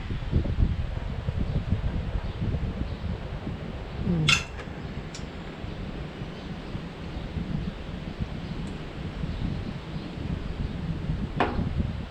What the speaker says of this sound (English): Boy, that wind is chilly today.